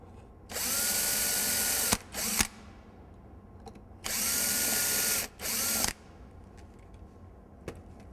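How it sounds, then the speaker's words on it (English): An electric drill whirs through wood of a Euro-style cabinet drawer in two pairs of loud bursts, each run stopping briefly before a short second burst, with quiet gaps between. "drill this side out"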